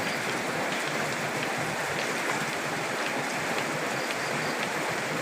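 Rain falls behind a house beside rice paddies in Thailand, a dense, steady hiss of drops on surfaces that runs unbroken and close, with no voices.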